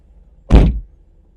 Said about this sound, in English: I'm going to just close the door a second.